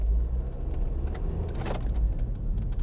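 A 2012 MINI Countryman Cooper SD with four-wheel drive pulls away from rest with two wheels on leaves, a steady low engine rumble and road noise holding throughout, close and continuous, with one brief brighter swell midway.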